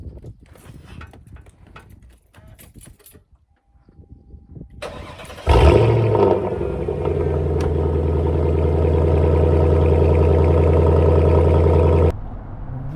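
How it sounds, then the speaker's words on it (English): A Mercedes SLK55 AMG V8 cranks and fires on a cold start, bursting into a loud, steady high idle that holds close-up for several seconds before dropping slightly, after quiet rustling beforehand. "Now I want to show you a cold start on an SLK55 AMG because it sounds amazing"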